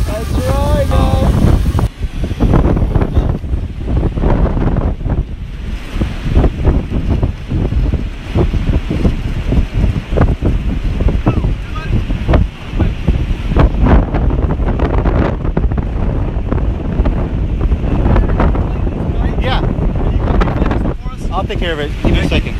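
Strong outdoor wind roars and buffets against the microphone in a continuous, loud, gusting rumble that barely lets up.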